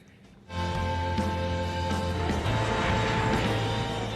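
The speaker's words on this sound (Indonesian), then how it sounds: "Setelah pesawat take off" A passenger airplane in a film roars up suddenly after a quiet moment, then holds a loud, steady, droning jet rumble with high whining tones during takeoff.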